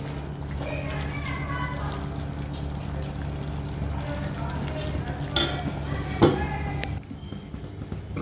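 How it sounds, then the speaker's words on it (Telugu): Chicken frying in its own gravy in a pan, a continuous sizzle and crackle with a low steady hum behind, a couple of louder spatters and clatters near the end. "పది నిమిషాలు అయింది చూడండి చక్కగా ఫ్రై అవుతుంది"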